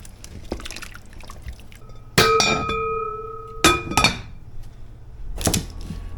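Moose stew being stirred in a pot on the stove, giving loud metallic clinks and scraping from about two seconds in, with brief ringing tones and a final burst of clatter near the end.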